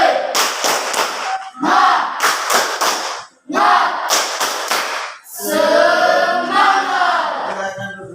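A classroom of students stands and gives group 3 a rhythmic cheer, bursts of clapping in a steady pattern with shouts, loud and close, in several phrases before a longer noisy stretch of crowd cheering.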